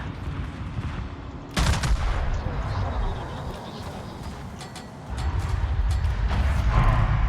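Warship main and secondary guns boom in a naval battle in World of Warships, with heavy blasts near the start and again later over a constant rumbling background of engine noise and sea.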